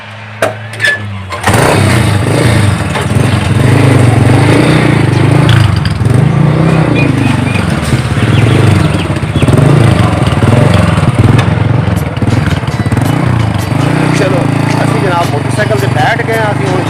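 A motorcycle starts up and rides along with a steady, loud engine drone, with someone talking over it throughout.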